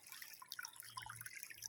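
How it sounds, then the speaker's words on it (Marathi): A spring trickles into a pond from beneath the bank, giving soft, scattered drips and light water patter, faint and with no voices. "तलावाचा झरा आहे तो, तलावाच्या खाली कोपऱ्यामध्ये."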